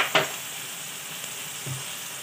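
Spring onion greens fry in a pan with crushed peanut powder, dal and turmeric, giving a steady soft sizzle. Two brief knocks or scrapes of a spoon stand out, one at the start and one later.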